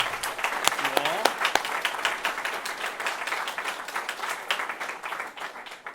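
An audience at a bootcamp demo day applauds the presenters, with crisp individual claps and steady clapping from a modest room that gradually tapers, while a voice briefly speaks near the start.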